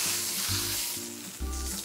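Meat sears in a hot pan with a loud, steady sizzle and crackle, close up, with faint low thuds of handling under the frying hiss and no talking.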